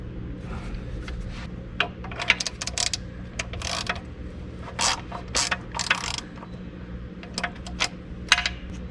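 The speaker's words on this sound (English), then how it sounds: "Then what we'll do is just tighten these two bolts down and we'll see how much play we got." Bolts are tightened on the torque amplifier of an International IH 1066 tractor, giving scattered metallic clicks, ratchet ticks and clinks in irregular bursts. The sound is fairly quiet and close, with no talk.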